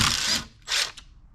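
Two short ratcheting bursts from a hand tool loosening the bolts on the top rack covers of a CFMOTO CFORCE 600 ATV, close and fairly quiet with a brief pause between them.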